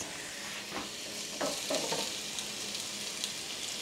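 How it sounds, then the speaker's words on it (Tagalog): Garlic and onion fry in a pan with a steady hiss, joined by a few brief louder sizzles and stirring scrapes partway through. "Brown lang natin yung bawang. After nun, lagyan natin ng sibuyas."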